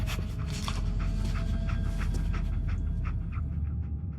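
Dogmeat, the dog companion in the video game Fallout 4, pants in quick, rhythmic breaths close by over a low background hum, with no talk.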